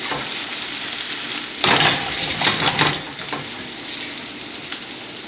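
Tender crappie fish fillets pan searing, a steady close sizzle throughout with a louder burst of crackling and utensil clinks in the middle, then settling back to an even fry.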